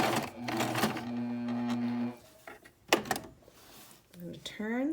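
A sewing machine runs a wide-length stitch through duck cloth on a face mask. The short, uneven mechanical bursts sit close under a person talking throughout.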